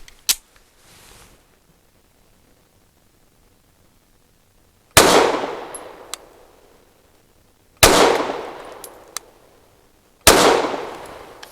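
Canik METE MC9 Prime pistol firing S&B 150 grain subsonic rounds: three sharp, loud shots a few seconds apart, each with a ringing decay, after a faint click or two.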